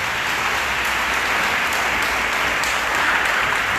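Church congregation applauding during a worship service, with steady, dense clapping that holds at an even, fairly loud level for the whole stretch.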